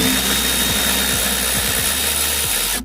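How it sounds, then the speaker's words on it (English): A power wrench spins loose 10 millimeter bolts on a car door, a loud continuous whirring drone with a rising pitch that stops abruptly at the end. "We're gonna go ahead and stick the wrench on."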